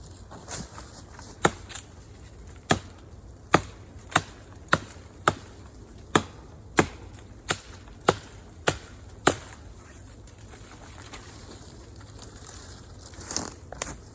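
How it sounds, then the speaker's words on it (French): Kabar BK-9 knife chopping into dry, hard dead wood with a rotting exterior: about a dozen sharp, evenly spaced chops ring out close and loud, with no talking. "Donc démonstration coupe à la volée."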